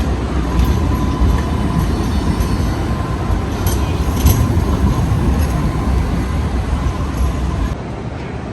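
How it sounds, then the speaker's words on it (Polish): A tram rumbles steadily past up close on George Street in Sydney, a loud continuous rolling roar with faint metallic squeals, easing slightly near the end. "I kolejny tramwaj."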